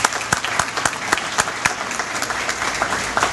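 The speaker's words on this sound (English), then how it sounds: "if you would join me in a round of applause for her meal today" A crowd at a chamber of commerce lunch claps steadily and fairly loudly, dense overlapping applause that carries on without a break.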